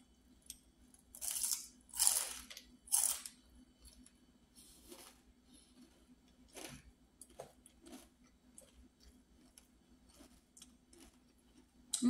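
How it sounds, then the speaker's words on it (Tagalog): Crunchy fried salmon skin being bitten and chewed close up: a few sharp, loud crackling crunches early on, then softer, sparser crisp bites and chews over a faint steady hum. "I remove the skin of the salmon. And then I fry it like this. That's why it's crunchy."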